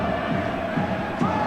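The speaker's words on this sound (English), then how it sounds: "You can hear the home crowd." Home crowd at a Wigan versus Leeds rugby league match, a steady broad roar of spectators with rising murmurs, heard continuously at a distance.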